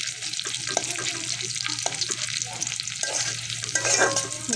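Boiled mustard greens being stirred and fried in oil in a pan, a steady close sizzle broken by repeated scraping strokes of the spoon.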